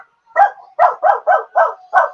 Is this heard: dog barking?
yes